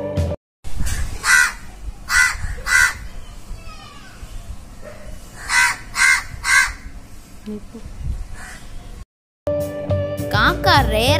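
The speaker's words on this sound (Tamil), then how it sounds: "நார்மலா கத்துற காக்காவோட வாய்ஸ கேளுங்க." A crow caws loudly outdoors, its harsh calls arriving in quick sets of three, repeated several times against faint background noise.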